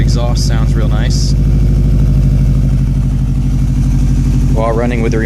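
A 2006 Subaru STI with a Crawford exhaust idles steadily and loudly throughout, a continuous low rumble, while voices talk over it at the start and again near the end.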